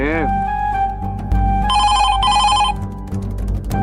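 A telephone rings in a brief electronic trill, loud and close, over background voices and music in a TV drama episode.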